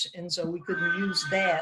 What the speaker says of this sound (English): that's my cat screaming in the background.